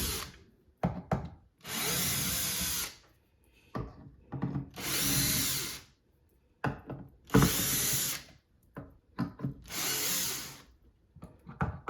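A battery-operated screwdriver backs screws out of a guitar pickguard in four loud, close bursts of about a second each, separated by quieter clicks and handling noises.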